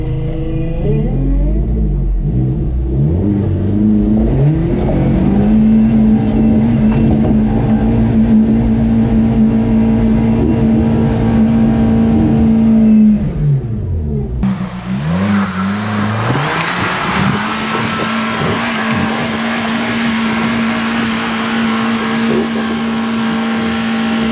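A loud engine drones and revs for a long stretch, holding a steady pitch, then dips and surges again as the vehicle strains forward.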